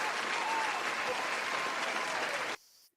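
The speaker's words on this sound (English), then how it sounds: "can we get some applause here for Tom Lang" A crowd at a live college football postgame call-in show breaks into loud, sustained applause, dense and continuous for about two and a half seconds before cutting off abruptly.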